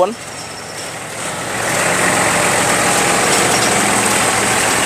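A Kubota X20 tractor engine running, a steady low rumble that starts softer and then rises and holds at a constant louder level, close by, with a voice speaking over it.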